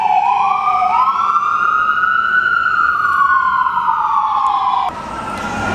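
Ambulance siren wailing loud and steady as it passes outside, one long rising and falling tone that drops in pitch near the end as the vehicle moves away.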